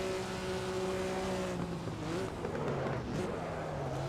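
A Maserati 250F race car at Monza in Assetto Corsa drones close by, its engine holding a steady tone that then dips and shifts as the car is eased around a corner, with no voices.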